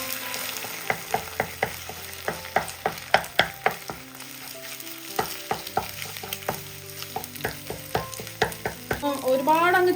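A spatula taps and scrapes steadily as egg seasoned with chilli powder and salt is scrambled into small pieces in a frying pan, with a soft sizzle beneath the irregular clinks.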